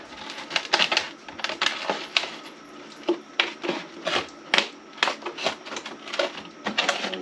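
Rapid, irregular crunching and scraping bursts as a box cutter cuts through a thin plastic bottle, close up and moderately loud with no talking.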